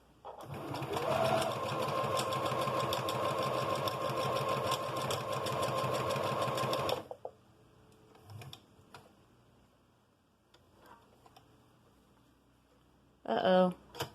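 A Singer P-1250 sewing machine driven by a foot pedal runs with a loud, steady mechanical whir for about seven seconds, then stops abruptly. Faint handling noises follow, with a short burst of sound at the very end.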